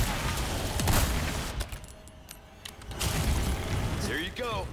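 A riot gun shotgun fires in Resident Evil 4 Remake: a few heavy booming blasts spaced apart under a dense game soundscape, with a voice speaking near the end.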